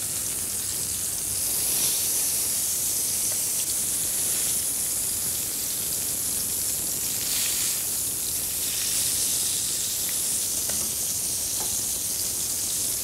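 Breaded pieces, coated in strong-tasting breadcrumbs, fry in a pan with a steady, dense sizzle and crackle that continues alone and unchanging throughout, close and fairly loud.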